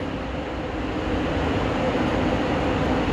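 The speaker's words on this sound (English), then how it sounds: "My tram's arriving though, so I'm gonna hop on that thing" A tram pulls in at a Las Vegas station with a steady, loud rumbling roar of wheels and motors, continuous and close, with no voices over it.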